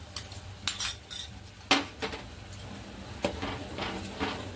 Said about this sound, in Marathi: मस्त हलवून घ्यायचं आहे छान असं